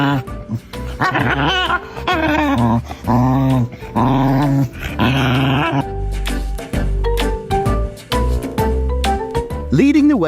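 Dogs growl and snarl in rough play, with short barks and whimpers in bursts, loud and close, with a person's laughter mixed in.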